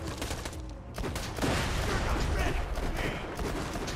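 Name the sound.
gunfire in the video game Borderlands 2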